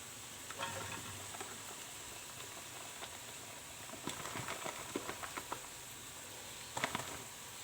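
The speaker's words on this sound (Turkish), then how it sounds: "Ve ardından etlerimizi kavurmaya bırakıyoruz" Meat for homemade İskender sautéing in a pan, a soft, quiet sizzle with scattered light pops and spatters clustering toward the end.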